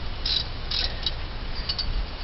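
Wrench loosening the half-inch fan bolts on a Ford 400 engine in a 1978 Continental Mark V, a run of quick metallic ratcheting clicks up close, in short bursts against a faint hiss.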